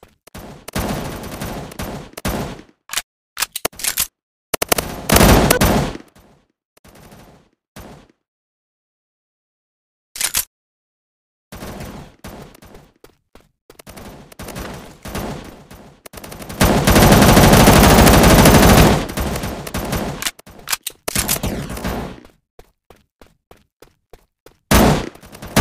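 Gunfire from the MaskGuns shooting video game: loud bursts of rapid automatic fire and single shots, broken by gaps of silence, with one long sustained barrage near the middle.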